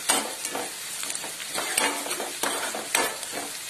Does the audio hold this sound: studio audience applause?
no